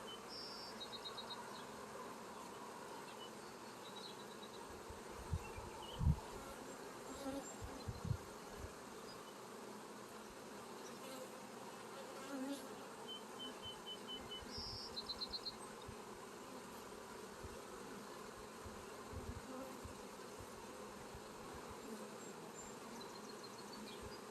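Honeybees hum softly and continuously around an open hive during an inspection, a faint steady drone with occasional light knocks and clicks of frames being handled.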